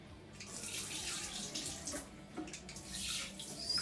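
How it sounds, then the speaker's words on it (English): Water runs steadily from a tap or shower over hair during a natural hair wash day, a continuous close splashing rush with slight shifts in flow, no talking. "what I usually like to do is saturate my hair with a lot of water"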